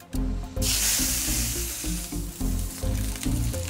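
Meat sears in a pan of oil and butter with a loud, steady sizzle, crackling up close and swelling in waves as the fat spits, with no talking.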